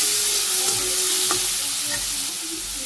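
Cumin, bay leaf, fenugreek, vegetables, salt, green chili, turmeric and red chili powder fry in a pan for a soybean and vegetable curry, giving a steady, close sizzling hiss with occasional scraping stir sounds throughout.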